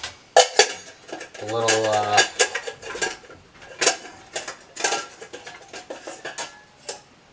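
Light metallic clinks and rattles come from handling a small camp cooking pan kit with a little plate and measuring cup. The clanks are close and intermittent, partly under a man's speech.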